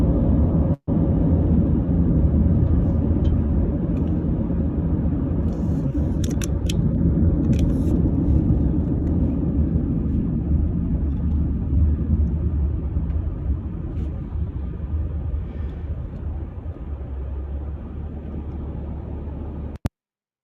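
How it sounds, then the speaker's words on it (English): Traffic jam of cars on a road, a steady loud low rumble of idling and crawling engines filling the scene continuously, slowly easing in level toward the end, with no talk. "It's a traffic jam."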